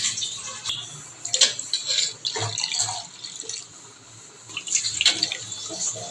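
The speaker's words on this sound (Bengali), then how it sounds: "আমরা আরেক মগ পানি ঢেলে দেব" Water poured from a mug over fresh chhena in a bowl while making rajbhog sweets, several splashing pours in bursts with quieter gaps between them, close by.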